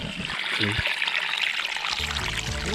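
Water flows and splashes steadily outdoors, a continuous rushing wash with a few brief low voices or tones mixed in.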